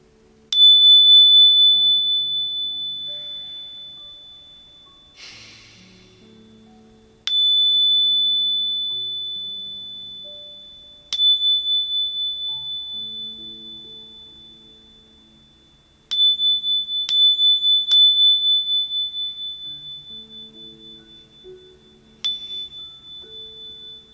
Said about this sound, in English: this is a high-pitched sound. So I'm going to do a little bit of chime in here.